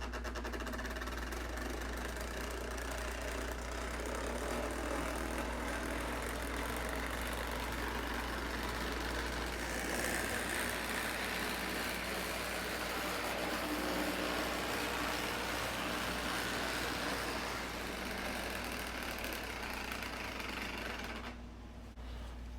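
A Lionel MPC-era 242 toy steam locomotive, model 8040, runs with a steady whirring motor hum and faint mechanical rattle. It sounds close and continuous with no talk, then cuts off near the end.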